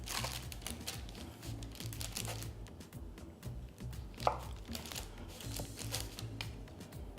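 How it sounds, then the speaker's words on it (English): A knife chops a homemade healthy Twix bar with a hard-set coconut-oil chocolate layer into pieces, giving repeated close, crisp cutting clicks and crunches through the whole stretch, with one sharper snap partway. "So now I'm going to cut it in pieces."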